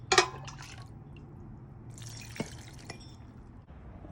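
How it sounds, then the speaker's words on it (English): Lukewarm water trickles and splashes into a jar over mustard greens, with a few sharp drips and a brief gurgling burst of pouring, faint and close, no talking. "the water has been poured into the jar all the way 3/4 up to the top"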